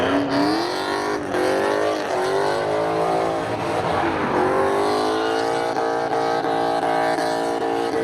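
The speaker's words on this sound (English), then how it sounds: "Here comes Jonathan Johnson again in the Camaro" A Camaro drag car accelerates hard down the strip at Seekonk Speedway spectator drags, its loud, continuous engine roar rising in pitch as it pulls away, close and dominant throughout.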